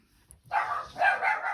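Dogs bark outdoors at night in a few quick bursts, moderately close, with a short pause between barks and no talking over them.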